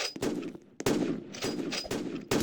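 Roblox first-person shooter gunfire in rapid bursts, several sharp volleys separated by brief pauses, loud and close.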